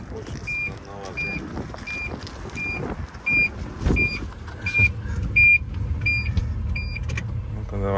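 A Toyota COMS electric microcar accelerating, with a low motor hum under repeated high electronic beeps and some road rumble, close up.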